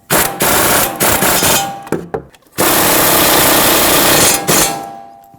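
A power tool snugs up the front brake caliper bracket bolts on a 2014-2019 Toyota Corolla: several loud short whirring bursts, then one long sustained run that tapers off, with metallic clanks.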